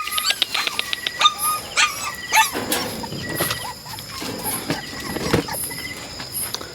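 Several puppies yelp and bark in quick, high-pitched bursts nearby after a flood, with whimpering and shuffling noises in between.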